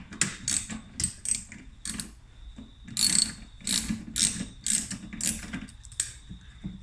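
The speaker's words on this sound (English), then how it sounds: "So I'll remove these plastic nuts now." A ratchet loosening plastic nuts at the rear of an Audi A4 gives close, bursts of sharp clicking that repeat in quick rhythmic runs with brief gaps between them.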